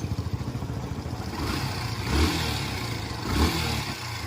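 Yamaha FZ version 2 motorcycle engine brought in for an abnormal noise, running steadily with a clattering mechanical rattle and two brief revs rising over the idle, close and fairly loud.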